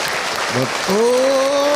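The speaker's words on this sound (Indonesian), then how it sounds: "Tepuk tangan buat kita semua ya." Audience applause at an Islamic religious lecture in Indonesia, a broad wash of clapping heard briefly under a voice speaking over it.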